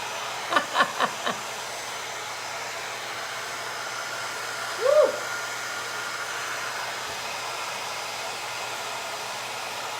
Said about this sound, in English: So give me 1 second to blow dry this.